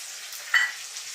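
Tomato drops into a hot pan of spices and bursts into a short, bright sizzle. The hiss swells for a moment and then settles back to a steady background fry, with no voices.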